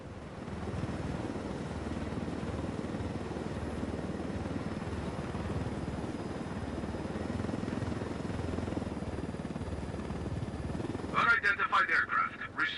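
A helicopter in a video game drones steadily with a constant rotor and engine rumble, close and unbroken throughout, with a voice speaking over it and a brief burst of louder chopping noise near the end.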